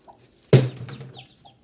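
A native country hen gives one sharp, loud cluck near a chick hatched that day, followed by a fading low murmur and faint quieter peeps.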